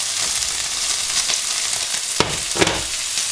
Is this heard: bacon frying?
yes